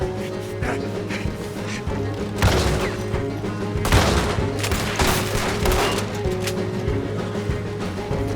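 Sustained gunfire in the Red Dead Redemption 2 video game: a dense fusillade of rapid, overlapping shots and heavy booms over a constant rumble, with sharper bursts near the middle and no talk.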